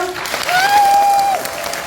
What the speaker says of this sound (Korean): 우리 모두 손 함께 서로를 위해 박수 한 번 쳐볼까요?